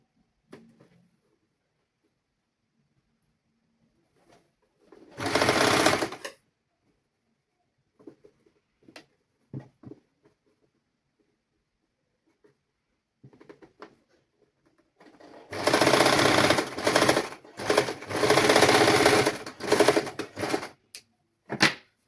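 A sewing machine stitches a baby summer dress in two bursts, one short run and then a longer steady run of several seconds, with quiet handling noises between them.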